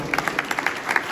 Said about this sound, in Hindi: एक बार इनका भी जोरदार तालियों से स्वागत।